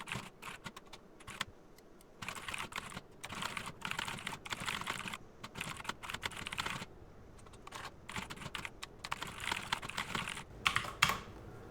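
Someone types on a computer keyboard up close in quick, uneven bursts of crisp key clicks, with short pauses between phrases and a few louder taps near the end.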